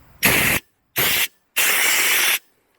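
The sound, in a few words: air blowing through sunroof drain tube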